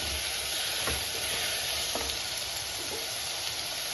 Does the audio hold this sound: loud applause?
no